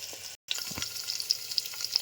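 Onions and tempering spices fry in hot oil with a steady bright sizzle, broken by a brief silence near the start, with occasional stirring clicks and pops.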